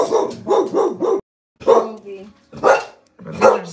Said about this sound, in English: My neighbor come in and my dog barks.